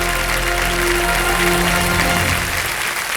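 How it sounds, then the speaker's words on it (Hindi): Loud, dense applause from a game show studio audience, steady throughout with a faint musical tone lingering underneath. "बहुत बहुत तालियां बजता है जोरदार इन सबके लिए"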